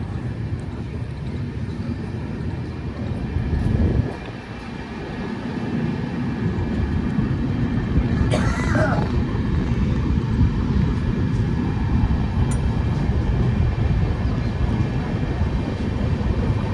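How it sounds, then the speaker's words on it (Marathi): A passenger train pulling out of Prayag Junction on its run from Mumbai to Uttar Pradesh, heard from on board as a steady, dense rumble of wheels on rails that continues throughout, with a brief swell early on. "ट्रेन आता सुटलेली आहे तर आम्ही आता चाललोय"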